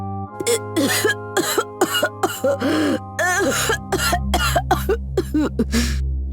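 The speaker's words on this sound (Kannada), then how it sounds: "ಅವರಮ್ಮ ಜೋರಾಗಿ ಕೆಮ್ಮೋಕ್ ಶುರು ಮಾಡಿದ್ರು" An elderly woman coughs loudly and repeatedly, about a dozen harsh bursts in an uneven rhythm with brief throat-clearing sounds mixed in. She is close, with a steady low hum under her.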